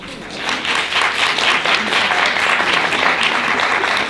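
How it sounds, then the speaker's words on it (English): Sustained audience applause at a panel event, dense steady clapping from a crowd filling the whole stretch at an even, fairly loud level. "I really need a louder applause"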